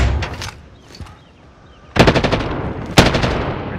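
Gunfire in Call of Duty Warzone on Rebirth Island: an opening rattle of automatic fire, a quieter lull with a single distant shot, then two loud close bursts of rapid machine-gun fire.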